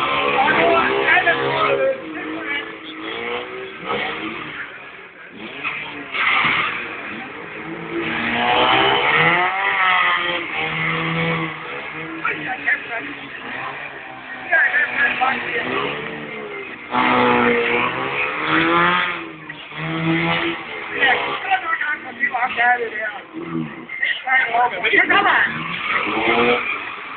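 Cars revving and skidding at a Danish car boxing final, engines surging with repeated tire squeals and wavering pitch sweeps, heard under a loud excited announcer talking over the action.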